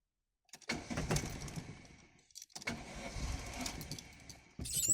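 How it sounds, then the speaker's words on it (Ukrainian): A VAZ car with a rough, shaking idle cranks and starts twice, each attempt a churning starter burst that catches into a running engine, close and fairly loud, with no talk. "Запуск машини."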